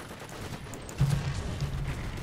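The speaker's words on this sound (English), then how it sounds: "We need artillery support." Artillery barrage in the War Thunder tank game rumbles as a dense low-frequency roll of distant booms and gunfire, swelling louder about halfway through and continuing steadily to the end.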